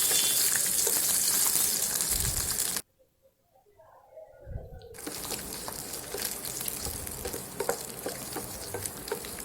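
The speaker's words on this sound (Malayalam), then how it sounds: "ഗീ ഒന്ന് ചൂടായതിന് ശേഷം നമുക്കിതിലേക്ക് കാഷ്യൂ നട്ട് ഇട്ട് കൊടുക്കാം." Cashew nuts and raisins fry in hot ghee for semiya payasam, sizzling loudly up close with stirring scrapes, then a sudden near-silent break of about two seconds before the crackle builds again.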